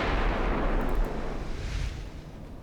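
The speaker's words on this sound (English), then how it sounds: "he's firing on the Goben, which is not making things any better" Sustained rumbling barrage of naval guns from battleships in the warship strategy game Ultimate Admiral: Dreadnoughts, loud and dense with overlapping booms that slowly fade toward the end.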